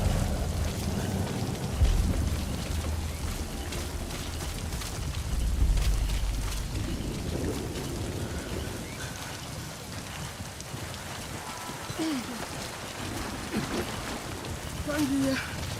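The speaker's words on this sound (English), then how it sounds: "Damn, stop raining." Steady rain falls throughout a Metal Gear stealth game scene, a constant broadband hiss with a few low rumbles and soft thuds mixed in, and game voices and chatter running underneath.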